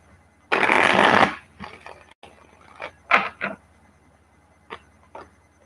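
Tarot cards are shuffled by hand, starting with a loud riffling burst followed by scattered softer taps and flicks of cards being squared and handled.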